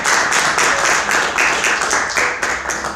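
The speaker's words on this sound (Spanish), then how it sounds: "Dele un fuerte aplauso al Señor." A church congregation applauds loudly during a Bible class, a steady wash of many hands clapping throughout, with faint voices mixed in.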